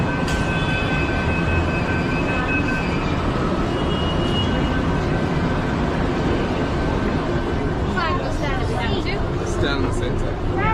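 A Mumbai metro train runs with a loud, steady rumbling roar heard from inside the carriage, constant throughout, with faint chatter and some brief higher squeals near the end.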